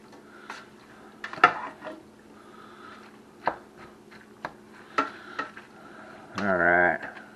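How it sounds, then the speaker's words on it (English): Metal utensil chopping sausage in a pot, several scattered knocks and clinks against the pot with a short voiced sound near the end, moderately close over a low background hum. "Kind of chop our sausage up a little better there."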